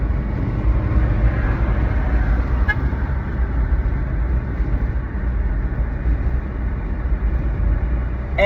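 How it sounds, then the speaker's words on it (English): A car runs close by with a loud, steady engine and road rumble that holds for several seconds, with a faint horn toot partway through and no talking. "sorry, the damn car"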